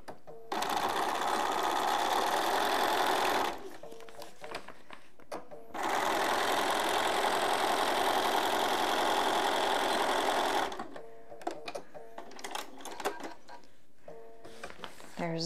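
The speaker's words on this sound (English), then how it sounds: "Sew down that line." Sewing machine stitching a seam on a rain cover for lights, two long loud rapid-fire bursts separated by pauses filled with handling noises and clicks.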